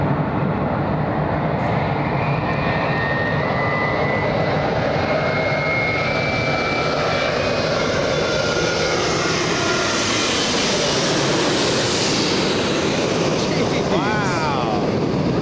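A jet airliner's engines roar loudly at Los Angeles International Airport, a sustained broadband rush with a rising whine that builds and sweeps as the aircraft passes close by.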